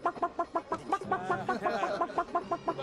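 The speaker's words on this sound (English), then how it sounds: "It's a chicken." A chicken clucks in a quick, regular run of sharp, close clucks, one bird alone with no talk, from the film Stargate.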